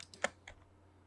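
Quiet keyboard typing while entering a command in AutoCAD: a couple of light key taps followed by a sharper Enter press and one last click, close and isolated.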